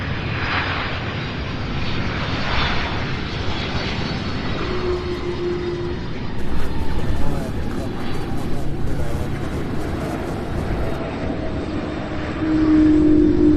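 A UPS MD-11 cargo jet landing at Louisville airport, a steady broad engine roar that swells toward the end, with voices talking over it throughout.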